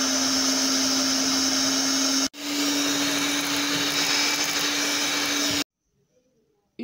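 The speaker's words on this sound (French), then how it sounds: "Maintenant que vous avez mis les 2 pots de mascarpone, vous allez mélanger l'ensemble." An electric mixer whirs steadily through mascarpone cream with egg yolks and icing sugar for strawberry tiramisu, a loud continuous drone that cuts out briefly, resumes, then stops, leaving near silence.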